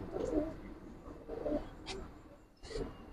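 Pigeons in a loft give low, soft coos in repeated bursts, with a few brighter flutters or calls between them, close by against a quiet room background.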